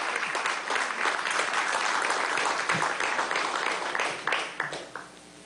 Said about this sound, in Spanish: Un aplauso, ¿usted no lo aplaude?